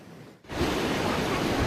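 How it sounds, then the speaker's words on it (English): Floodwater rushes across a road, a broad steady roar that swells in abruptly after a brief lull and then holds loud and continuous. "Water continued rushing through Keenbrook Road"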